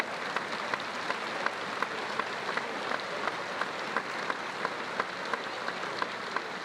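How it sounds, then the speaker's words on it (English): Spectators applaud at an NCAA baseball regional elimination game between St. John's and Florida State, a soft, distant, steady patter of clapping from the stands with no one speaking over it. "To a round of applause from those in attendance."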